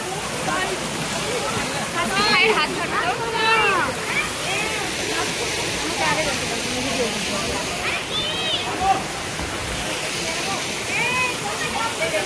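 A loud, continuous roar of cascading waterfall water at the Rock Garden in Darjeeling, close by, with voices chattering faintly underneath.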